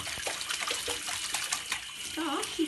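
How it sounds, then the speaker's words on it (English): Water sprays and splashes from a bathroom bidet as a Wheaten Terrier attacks it, a continuous hissing spatter with uneven bursts, close by, and a voice speaks faintly near the end. "you've got water everywhere"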